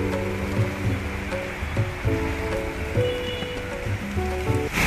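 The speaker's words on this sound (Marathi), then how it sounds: "इथे एक खतरनाक असा जोराचा पाऊस चालू झाला आहे, मुसळधार आहे जोरात पाऊस." Heavy monsoon rain pours steadily outside Borivali railway station in Mumbai, a dense continuous hiss close by, with a low droning tone and faint intermittent background sounds beneath it.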